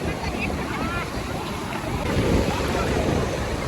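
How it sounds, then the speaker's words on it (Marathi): Sea waves roll in on Kashid beach near Alibag in rainy weather, a continuous broad roar of surf mixed with wind buffeting the microphone, swelling slightly toward the end. "किती मोठ्या लाटा आल्या"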